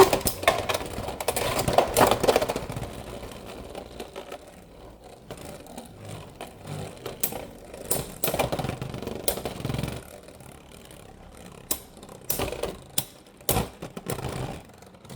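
A Beyblade Hells Chain 5-60T spinning top clatters in a stadium after a tilt launch, giving a steady whirring buzz broken by irregular sharp clacks of collisions, moderately close.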